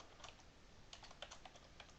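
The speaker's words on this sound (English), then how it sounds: "Typing too fast." Rapid, light clicking of keys on a computer keyboard in an uneven stream, faint against a steady background hiss.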